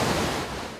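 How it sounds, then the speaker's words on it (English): Floodwater gushes over the Fairburn Dam spillway near Emerald, a dense continuous roar of rushing water, loud and steady for under a second. "Fairburn Dam just outside Emerald was a spectacular sight as thousands of litres of water gushed over the"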